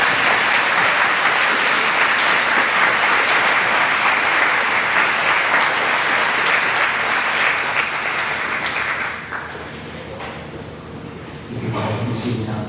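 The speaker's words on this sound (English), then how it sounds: "let's give them a round of applause too" Sustained applause from a crowd at a fifth grade closing ceremony, loud and steady for about nine seconds before thinning out, with faint voices and some stirring as it dies away.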